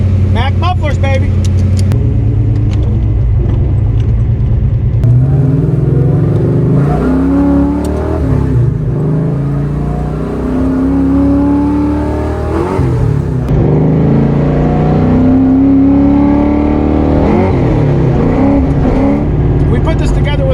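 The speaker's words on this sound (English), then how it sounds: "Mac mufflers, baby." A Foxbody Mustang with Mac mufflers and a rebuilt junkyard 8.8 axle revs and accelerates hard, loud and close, climbing through several gear pulls under an engine drone, with a voice over it.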